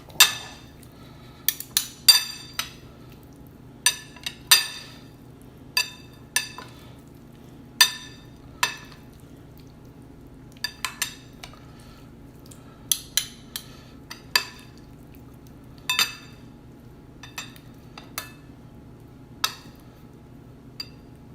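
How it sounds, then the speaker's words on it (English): A spoon mixes Sephardic potato salad in a bowl. Isolated, crisp clinks of utensil on bowl come at irregular intervals over a quiet background, about twenty taps in all. "I'm going to mix this up a little bit."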